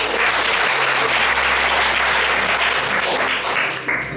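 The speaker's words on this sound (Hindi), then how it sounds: "तालियां बजाओ" Students at DDU Model GIC Jajor clap for a classmate in a school hall: loud, close, continuous applause from a group, lasting a few seconds without a break.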